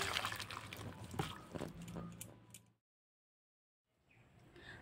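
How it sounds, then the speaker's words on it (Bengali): Thin, runny potato, soybean and pointed gourd curry poured from a pot into a bowl, giving a faint close liquid splashing and trickling that stops abruptly midway, then quiet room noise resumes. "এখন আমি একটা গামলার মধ্যে তরকারিটাকে ঢেলে নেব।"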